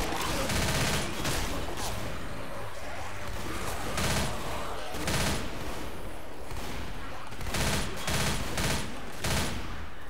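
Rapid shotgun blasts and bursts of gunfire from the Left 4 Dead video game sound loud and close, fired in repeated clusters with short pauses between volleys and a constant din of game noise underneath.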